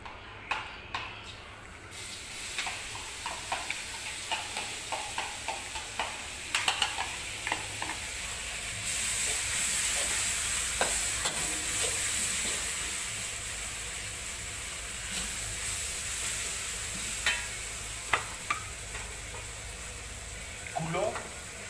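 Camel meat rica-rica stir-frying in a frying pan, a steady sizzle with scraping stirs and clinks running throughout, close and moderately loud, with a voice speaking intermittently over it.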